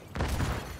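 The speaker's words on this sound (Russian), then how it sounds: "Арта уже пошла." Artillery fire in Tom Clancy's The Division 2 lands as a single deep, muffled boom that rolls and rumbles briefly, loud and close.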